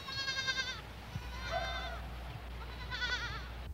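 Three separate wavering bleats come at intervals against a low steady background hum, moderately close and fairly quiet.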